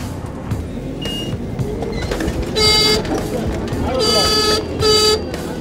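A CNG auto-rickshaw rides along a road, its engine rumbling steadily under the passengers' conversation, while several loud horn toots from passing vehicles sound nearby.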